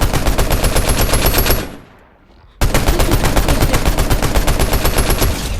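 Rapid automatic gunfire from a shooter video game, loud and close, firing in a dense continuous burst, then dropping out for about a second before another sustained burst resumes.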